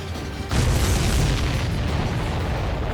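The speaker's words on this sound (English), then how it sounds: "We'll get caught up in the explosion" A loud, deep explosion from the Ace Combat 7 air-combat video game bursts suddenly after a quieter moment, then a dense roaring rumble sustains and slowly fades.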